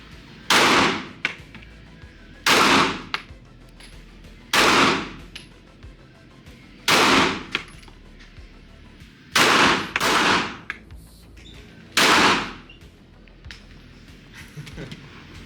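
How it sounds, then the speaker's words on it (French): Six loud, sharp blasts of gunfire or cannon shots, spaced a couple of seconds apart and each trailing off briefly, over a low background hum. "ça va être à son tour de tirer"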